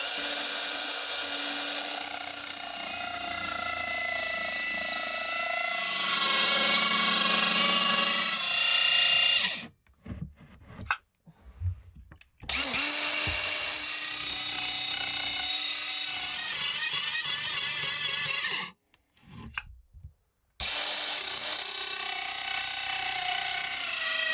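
A battery power tool cuts into a van panel with a loud, close, sustained whine that changes pitch as it works, broken by two abrupt silent gaps where it stops.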